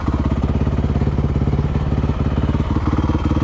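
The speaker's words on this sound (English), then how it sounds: "Turn your bike off." A motorcycle engine idles close by in a steady, chugging rhythm, loud and unbroken for the whole stretch during a tense roadside confrontation.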